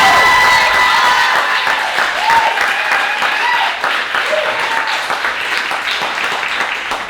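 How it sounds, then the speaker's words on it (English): Studio audience applauding a guest on a barbershop talk show, loud continuous clapping with some cheering that holds steady for the whole stretch, no voice on top. "give a round of applause for Steven Haushcka"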